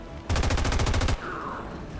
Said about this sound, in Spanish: Pero yo te disparo